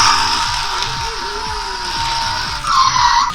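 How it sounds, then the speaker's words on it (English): A high, electronic racing-car engine whine with squealing tire effects from a toy remote-control car plays continuously, bright and synthetic, with a short rising burst near the end. "The orange button is to make the sound of the car's engine when it's going."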